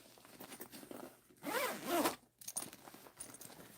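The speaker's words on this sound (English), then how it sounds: "So then you have a recessed zipper." A recessed zipper on a handbag zips quickly in two close rasping pulls, crisp and near, with light handling noise around it.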